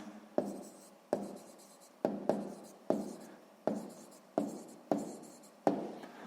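A pen scratches across paper while a math solution is written out, about nine distinct strokes in an uneven rhythm, each a sharp onset fading quickly, close and clear.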